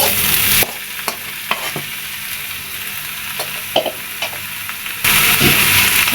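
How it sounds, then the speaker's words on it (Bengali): Boiled greens stirred into a hot pan of fried shrimp and onion, a steady loud sizzle with scraping spatula strokes at irregular intervals, heard up close with no talking. "এখন আমি শাকগুলি দিয়ে আস্তে আস্তে নাড়াচাড়া দিব।"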